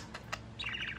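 A pet budgie gives two quick chirps, then breaks into a rapid, scratchy warbling chatter, close and fairly clear with no one speaking.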